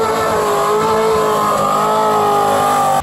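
A Toyota 4Runner (Hilux Surf) 3-litre V6 engine runs loud and steady at high revs with a sustained whine, close up and constant, then cuts off abruptly at the end.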